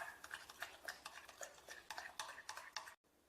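A spoon stirs sauce ingredients together in a bowl, giving a quick run of soft, close scraping and clinking strokes with an even rhythm, then a brief stop near the end.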